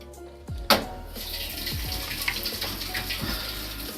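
A washing machine filling with cold water on a small load, regular cycle: a clunk, then a continuous rushing gush of water that runs steadily to the end, fairly loud and close.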